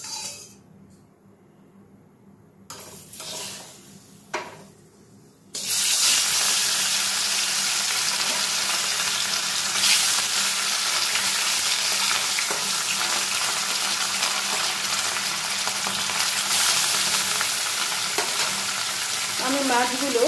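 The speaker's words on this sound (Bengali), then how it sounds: "মাছগুলো আমি এক এক করে ভেজে নেব।" Rohu fish pieces frying in hot oil in a kadai, a loud steady sizzle that jumps in after a few quieter seconds of handling and runs on continuously with faint stirring.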